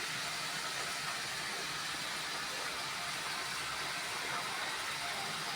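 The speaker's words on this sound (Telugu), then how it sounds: "ఇది కూడా పచ్చి వాసన పోయే వరకు మనం కొంచెం ఫ్రై చేసుకోవాలి" A steady, soft sizzling hiss of ground curry-leaf masala paste frying in a pan for a crab curry, continuous and even throughout, with no voices.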